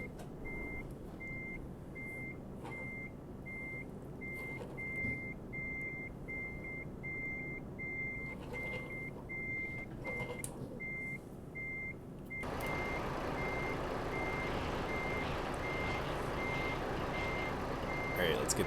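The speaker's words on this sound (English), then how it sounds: "when you get like 5 trucks backing up at the same time? It just sounds like a constant beep." Several trucks in Euro Truck Simulator 2 multiplayer reverse together, their backup alarms blending into a steady, near-constant beeping over low diesel engine rumble, which swells louder partway through.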